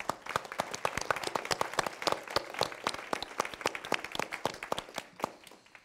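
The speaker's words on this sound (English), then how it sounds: "would you give them a round of applause?" Applause at a dean's policy breakfast, a small audience clapping briskly with distinct individual claps close by, steady throughout and tapering at the end.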